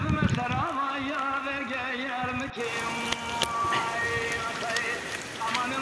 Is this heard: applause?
no